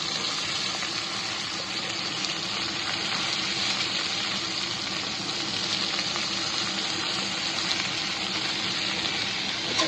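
Pieces of cauliflower fry in a pan with a steady, close crackling sizzle that continues evenly throughout, with no talking.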